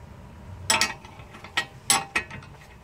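A wrench works a size 19 bolt on one end of a car's steering center rod near the ball joint, giving about five sharp metallic ratcheting clicks in two loose groups over a quiet background.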